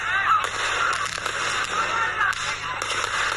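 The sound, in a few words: Diwali firecrackers and fireworks bursting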